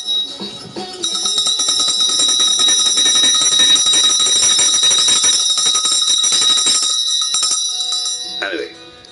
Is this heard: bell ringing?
yes